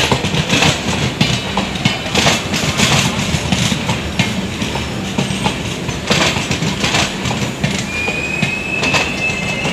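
Garib Rath Express train rolling out of Bagaha station in West Champaran after a brief hold, with a steady loud rumble of wheels on rails, rattling carriages and occasional squeals, heard continuously from on board.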